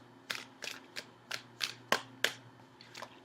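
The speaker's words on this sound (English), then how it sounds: "So give me a few seconds while I shuffle the cards." Seven or eight crisp, papery riffles of shuffled tarot cards arrive in an uneven rhythm, close by and fairly quiet, with a faint steady hum underneath.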